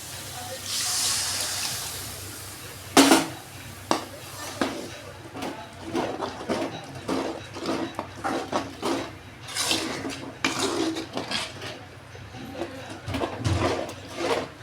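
Tamarind water poured into a pan of sautéed masala for a Catla fish curry, a soft watery wash with clinks and knocks of a vessel against the pan, at close range, with brief talk in the background.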